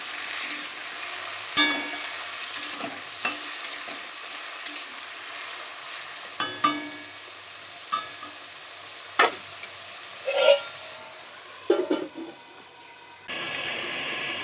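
Food frying in hot oil in a home kitchen gives a steady soft hiss, broken by repeated sharp clinks and scrapes of stirring at irregular intervals, with faint voices in the background.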